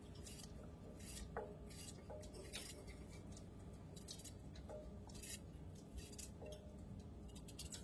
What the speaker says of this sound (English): So I got one more potato to cut up.